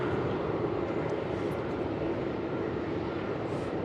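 A departing airliner at Melbourne Airport gives a steady, broad roar of jet noise that holds at an even level throughout, heard from a distance with no talking.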